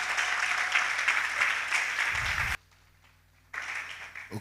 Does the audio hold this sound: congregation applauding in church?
yes